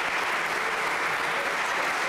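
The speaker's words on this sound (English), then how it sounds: "I just want to give a round of applause to the group for helping to organize the event" A crowd at a community justice-group event applauds, producing a dense, even wash of clapping that holds steady at moderate volume throughout the short stretch.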